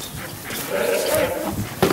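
A ratting dog barks among hay bales on a farm, giving a few sharp, close barks and yips amid rustling movement, with a voice urging it on.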